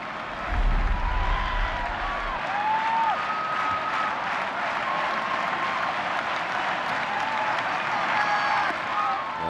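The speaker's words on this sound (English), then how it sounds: "The crowd's going nuts" A baseball crowd at a Tampa Bay versus Boston game roars steadily as David Ortiz steps up to bat, a loud, continuous wall of cheering and applause with a commentator's voice faintly over it.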